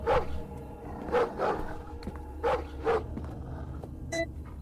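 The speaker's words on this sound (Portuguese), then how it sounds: "esse cachorro fresco tá latindo" A dog barks repeatedly in a horror video game, irregular sharp barks at moderate distance over a low droning ambient hum.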